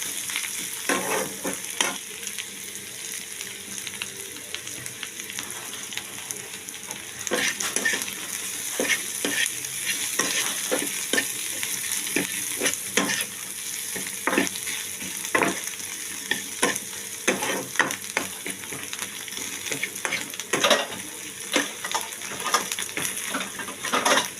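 Spices and ground black pepper fry in a pan for a paneer, broccoli and pea curry, a steady sizzle punctuated by repeated sharp scrapes and stirring clatter up close, with no voices.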